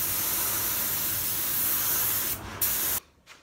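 Primer sprayed onto car parts in a workshop, a loud, steady close hiss that holds for over two seconds, breaks off briefly, then stops with a short final burst and a faint tail.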